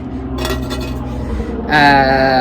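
A hybrid hexclad-style cooking pan with a raised textured surface is handled, with a few light metallic clinks followed by a louder ringing clank, near and distinct with no talk.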